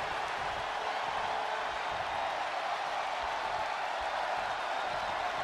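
Steady roaring crowd noise fills a WWE 2K20 wrestling arena, a constant dense wash of cheering and applause holding at an even level throughout with no clear peaks.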